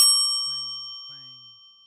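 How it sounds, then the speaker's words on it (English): A small bell on an antique shop door rings as the door opens, giving two clear, bright dings about half a second apart over a sustained metallic shimmer that slowly fades out. "A small bell rang."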